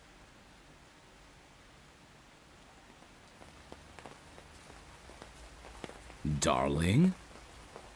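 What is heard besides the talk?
rain falling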